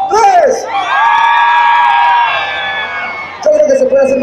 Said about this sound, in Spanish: a la de tres, quiero el grito más machín de la parte de allá atrás.